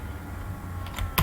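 A few quick keystrokes clack on a computer keyboard over a low steady room hum, the clicks bunched at the end and fairly close, no speech.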